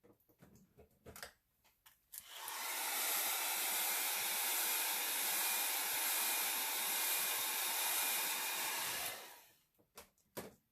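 A steady hair dryer blows air across a wet alcohol ink painting for about seven seconds, a loud even rushing hiss that starts and stops cleanly, with brief handling noises before and after.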